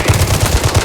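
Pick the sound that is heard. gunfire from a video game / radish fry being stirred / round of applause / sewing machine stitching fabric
gunfire from a video game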